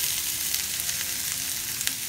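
Vegetables sauté lightly in a hot pan, giving a dense, steady sizzle and crackle up close, with occasional brief stirring scrapes and pops breaking through the continuous frying hiss.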